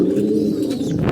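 A pet pigeon gives a single low, throaty coo up close, loud and sustained for about a second with no voices.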